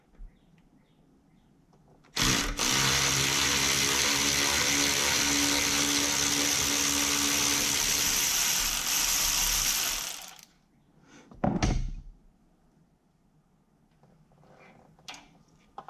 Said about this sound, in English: Now you can go ahead and just loosen this bolt up.